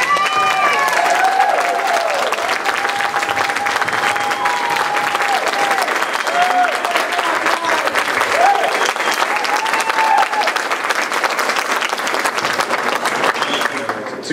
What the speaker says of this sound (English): Can we have one more round of applause for these guys?